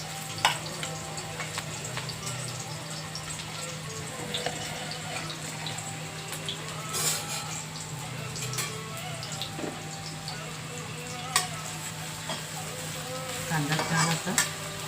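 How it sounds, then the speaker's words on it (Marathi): Onion fries in oil in a kadhai, giving a steady sizzle broken by the scrape and clatter of a spoon stirring it, with a few sharper knocks along the way. "कढईमध्ये कांदा टाकला,"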